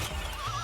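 A horse in Honkai Star Rail gives a short, wavering neigh that rises and trembles near the end, close and clear over a dense low rumble, with faint clip-clop under it.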